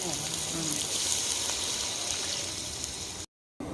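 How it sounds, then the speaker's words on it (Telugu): Steady rushing water poured into a pot of rice, continuous and fairly loud, then a brief cut to silence near the end. "నీళ్ళు పోసావా?"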